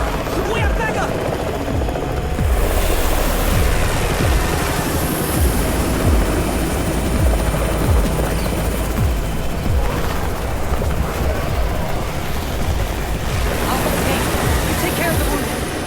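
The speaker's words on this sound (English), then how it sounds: "It's the Raven's chopper! We have backup!" A helicopter in the zombie survival video game Undawn whirs in with steady rotor chop over a dense, roaring wash of noise and battle ambience, continuous and loud throughout.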